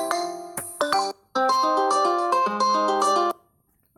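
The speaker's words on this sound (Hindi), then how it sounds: "आप Redmi 4 में रिंगट्यून कैसे रख सकते हो" A Redmi 4 phone plays a bright melodic ringtone with chiming notes, loud and close, with a brief break and then a longer phrase before it stops.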